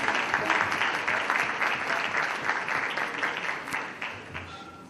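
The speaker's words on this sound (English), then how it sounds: "Big round of applause, ladies and gentlemen." A crowd at a charity singing event claps steadily in sustained applause, dense and even, tapering slightly toward the end, with faint voices mixed in.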